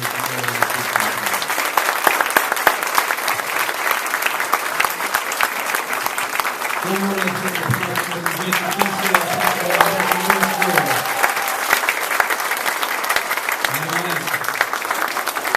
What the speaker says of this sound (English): Again, give them a round of applause, ladies and gentlemen.